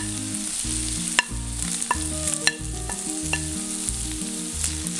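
Ginger, garlic, green chili and onion frying in hot oil, a continuous close sizzle with a regular pattern of stirring strokes and occasional sharp clinks of a utensil against the pan.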